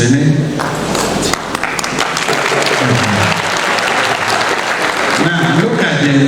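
A university audience at the 103rd Inaugural Lecture of the University of Uyo gives the lecturer a loud, sustained round of applause, with voices and some musical tones mixed in.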